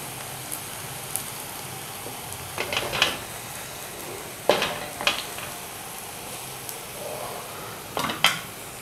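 Spinach kebabs frying in a little oil in a pan, with a faint steady sizzle broken by several sharp clinks and scrapes of a utensil against the pan as the kebabs are turned.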